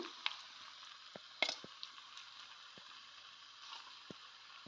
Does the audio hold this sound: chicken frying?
yes